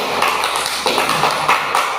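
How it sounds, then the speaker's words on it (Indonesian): A classroom group claps hands together, a short burst of brisk, close, overlapping claps lasting about two seconds. "mari kita tepuk tangan dulu"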